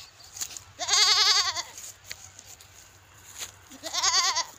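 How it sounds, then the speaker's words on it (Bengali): A goat bleats twice outdoors, each call a wavering, fairly loud cry lasting about a second, separated by a few seconds of quiet rural background with no talking. "কাদের ছাগল এটা?"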